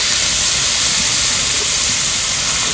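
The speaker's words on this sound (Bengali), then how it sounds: "এবার দিয়ে দেবো তেলের মধ্যে তেজপাতা একটা শুকনো লঙ্কা আর হচ্ছে গোটা গরম মশলা দিয়ে দেবো পেঁয়াজ বাটা" Whole spices, bay leaf, dried chilli, onion paste and ginger paste sizzle in hot oil, a loud, steady, close hiss of frying with no pauses and no talk.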